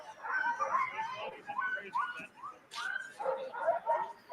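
Excited sled dogs yip, whimper and bark at the Iditarod ceremonial start in Alaska, a busy cluster of fairly faint, overlapping calls that continues throughout.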